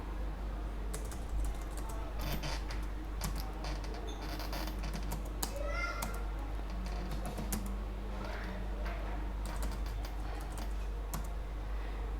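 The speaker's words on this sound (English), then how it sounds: "I'm just typing random things." Typing on a computer keyboard at a desk, a steady run of quick key clicks and taps close by over a low constant hum, with no talking.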